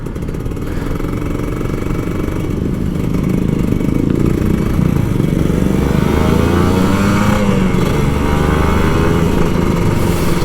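A Kawasaki Ninja RR 150 two-stroke sport motorcycle roars steadily nearby, rising in pitch as it accelerates, loud and continuous with no talking.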